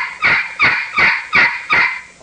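A hand-operated turkey call plays a slow-cadence yelp imitating a lonesome hen, five evenly spaced, raspy notes, loud and close with no talking.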